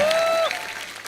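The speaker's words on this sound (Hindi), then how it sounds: "इनके लिए जोरदार तालियां" Brief burst of studio audience clapping for the Mumbai dabbawalas on a TV comedy show, a loud wash of applause with a short musical tone over the start, then dropping off within a second.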